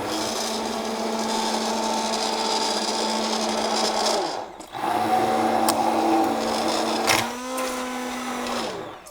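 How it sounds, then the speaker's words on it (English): An immersion blender purees hot homemade soup, a steady close motor whir with a sustained hum that dips briefly midway and shifts pitch near the end, with no talking. "I do find the immersion blender I prefer, just because the less transferring of hot liquid"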